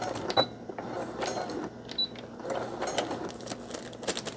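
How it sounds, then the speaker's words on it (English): A sewing machine stitches a coffee filter pocket, a moderately close, continuous mechanical hum with rhythmic clicks and a couple of sharp ticks, with no talking. "we'll just sew this real quick"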